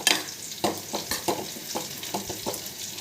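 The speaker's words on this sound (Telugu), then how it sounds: "ఇప్పుడు బాగా కలిసేలాగా కలబెట్టుకోండి." Drumstick and onion fry being stirred in a hot pan: a steady sizzle with a series of distinct scraping strokes of the spoon, about one every half second, close and clear with no voices.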